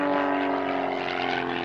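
An Extra 230 aerobatic aeroplane flies overhead with a steady, droning propeller engine hum that holds strong and even for a brief moment.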